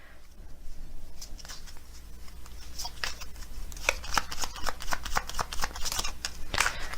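Tarot cards are shuffled in steady riffling bursts of crisp paper flicks and taps at close range, continuing without pause and growing slightly denser toward the end.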